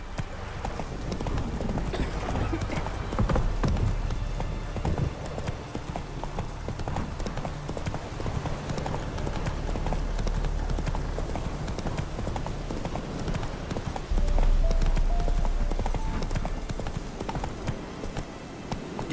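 Roach the horse gallops in The Witcher 3, with steady rapid hoofbeats clip-clopping close and loud over a busy rumbling game soundscape.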